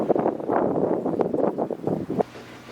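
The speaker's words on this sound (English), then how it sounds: "Ah, that wind is so cold today." Cold wind gusting hard across the microphone outdoors, uneven bursts of blustery rumble and rustle close up, no voices.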